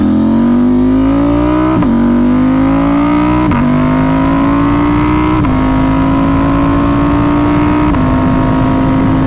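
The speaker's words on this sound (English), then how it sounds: "Right, open road, let's go. So yeah, KTM 990 Duke." A 2025 KTM 990 Duke ridden on an open English road, its engine loud and close, climbing through the revs with several distinct gear shifts, each bringing a short dip before the pitch rises again.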